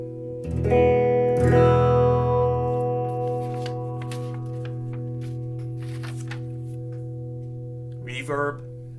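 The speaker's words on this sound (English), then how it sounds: "second was phaser" A guitar through a Fender Champion II 25 amp with phaser effect: a struck chord sustains and slowly fades, followed by a few quiet plucks and a short strum near the end.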